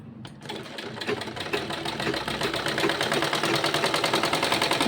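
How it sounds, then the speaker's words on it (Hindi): A sewing machine stitches a child's kurta sleeve in a fast, steady mechanical rattle that starts after a brief pause and runs continuously, close and clear with no talk. "सिलाई चलानी है।"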